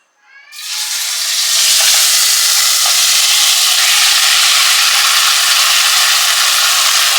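Marinated egg tandoori with yogurt, onion and capsicum bursts into a loud, steady sizzle as it hits a little oil in a nonstick pan, then keeps frying close and continuous.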